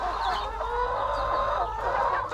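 Laying hens cluck continuously at a small farm flock of about 160 birds, a busy, close chorus of overlapping clucks and squawks with no talk.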